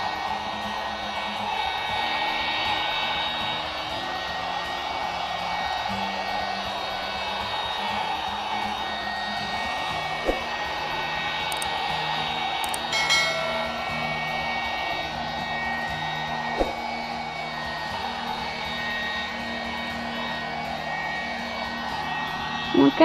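Heat gun pushing hot air across a resin-coated painting, a steady broadband whoosh with a low motor hum running continuously, with a few faint clicks.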